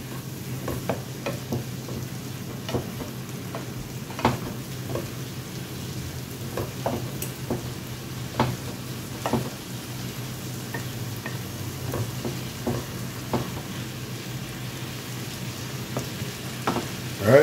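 Cube steaks fry in a pan with a steady sizzle and crackle, studded with sharp pops and spits, close and continuous, with no voices.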